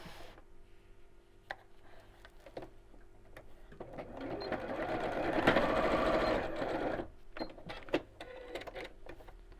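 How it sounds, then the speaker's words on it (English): A sewing machine stitches straight across the end of a fabric tote bag in short bursts, its motor swelling into a louder steady run mid-way, with scattered clicks and handling knocks between passes. "sew straight across the end"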